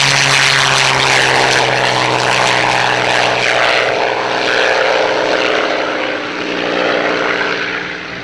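Rolls-Royce Merlin piston aircraft engine running at an airshow, a loud, continuous propeller drone and throaty growl close by, steady throughout with a slight dip and swell in level.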